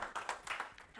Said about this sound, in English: We can applaud at that.